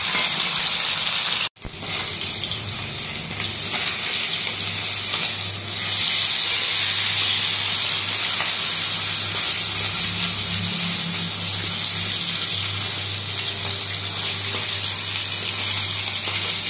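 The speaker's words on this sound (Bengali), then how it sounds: "তাই দেখো মাছ ভাজাগুলো উল্টে দিলাম এখন" Fish pieces frying in hot oil in a pan, a steady bright sizzle with a brief clatter near the start and a louder surge of crackling midway, no talking.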